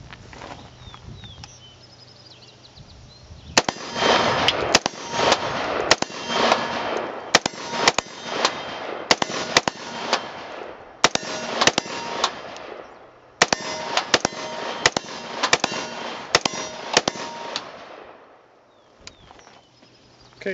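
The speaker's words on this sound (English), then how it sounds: "So that was 30 rounds of some sustained fire." An Eagle Arms Eagle-15 rifle chambered in .223 Wylde fires 30 rounds of 5.56 in sustained strings of sharp, loud reports, with two brief pauses between bursts before the firing stops.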